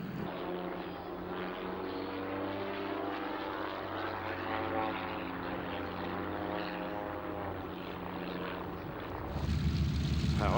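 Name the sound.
Harvard WWII trainer aircraft, Pratt & Whitney engine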